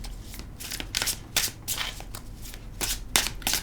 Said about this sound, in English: let's have a little shuffle